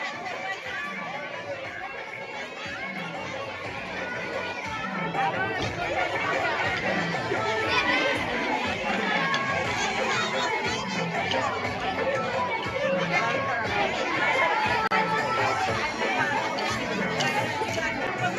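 A dense crowd at a dandiya festival with a maha-aarti chatters loudly, with overlapping voices of women and children, growing busier and nearer partway through.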